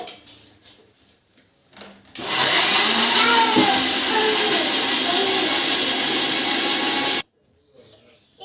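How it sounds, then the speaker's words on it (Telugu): A mixer grinder grinds green chillies and tomato with a loud, high-pitched whirring roar that starts abruptly, runs steadily for about five seconds, then cuts off, with quieter household sounds before and after. "పచ్చిమిరపకాయ టమాటా మూడు మిక్సీ పట్టుకోవాలి"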